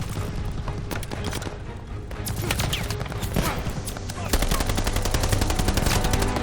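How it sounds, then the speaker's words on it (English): Machine-gun fire rattles in long rapid bursts in the Operation Tonga video game, layered with other gunshots and battle noise, loud and dense, while shouted voices come through underneath. "Hold positions! More MGs incoming! They're reinforcing! Keep firing!"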